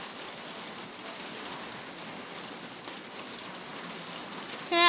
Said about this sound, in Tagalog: Sorry na ulan dito sa amin.